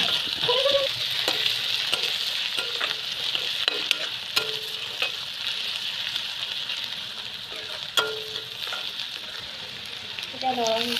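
Ginger garlic paste frying in oil crackles with a steady, fairly loud sizzle while a spoon stirs it, producing repeated scraping and tapping strokes and occasional sharper clicks against the pan across the whole stretch.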